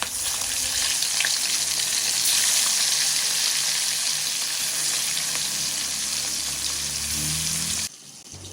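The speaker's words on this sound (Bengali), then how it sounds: "আর এদিকে আমি কড়াইয়ে তেল দিয়ে দিয়েছি, সেটা ভালো মতন গরমও হয়ে গেছে। আর এক এক করে আমি মাছগুলো ছেড়ে দেবো।" Fish sizzling as it fries in hot oil in a wok, a loud, steady, crackling hiss that runs nearly unbroken and then drops away abruptly near the end.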